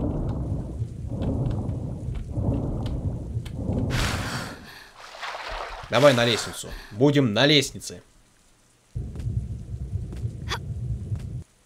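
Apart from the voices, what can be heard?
rain and thunder in Tomb Raider video game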